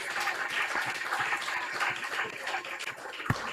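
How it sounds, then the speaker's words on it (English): An audience applauds at a hurricane recovery town hall: a dense, moderately distant clatter of many hands clapping, held steady throughout, ending with one sharper thump. "Please give them a round of applause."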